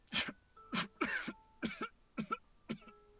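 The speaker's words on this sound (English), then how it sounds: "Salvi chokes on air, which quickly devolves into heaving coughs." Six heaving coughs after a choking fit, loud and close, coming in uneven bursts with short gaps between them.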